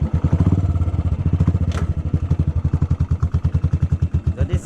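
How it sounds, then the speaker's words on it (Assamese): A motorcycle runs close by in steady, evenly spaced engine pulses with a throbbing beat, ridden along a straight stretch, loud and continuous throughout. "যদি সিধাই যাও বাইক চলাই ভাল লাগিছে"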